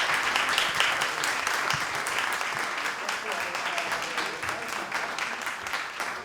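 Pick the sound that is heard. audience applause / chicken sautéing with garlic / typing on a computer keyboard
audience applause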